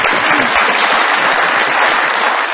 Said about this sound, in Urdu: اچھا بہت ساری تالیاں جی.